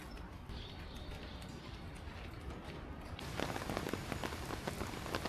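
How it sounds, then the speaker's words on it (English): Heavy rain pours down on a rainy vacation day near a university in South Korea, a steady broadband hiss that grows louder and denser partway through, with no talk. "the rain is pouring down"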